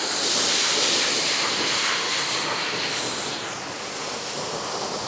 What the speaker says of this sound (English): That is a big waterfall.